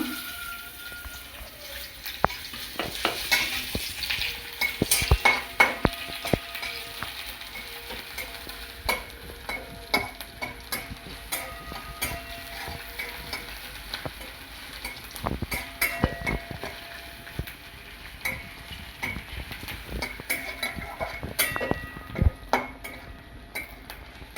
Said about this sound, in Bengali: লো আঁচে দেবো এবার আমি একটু পেঁয়াজ দিয়ে দেবো